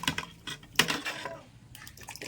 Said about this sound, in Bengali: জলের ভিতরে আমি ডালটা দিয়ে দিচ্ছি।